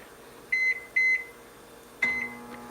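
A microwave oven emits three clear electronic beeps, two close together and a third after a pause, over a faint steady hum in a quiet kitchen.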